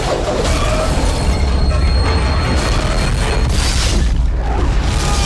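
Train ride in the video game Dead Space 2, a loud steady rumbling roar of rail car movement with screeching metallic wheel squeal and clattering throughout.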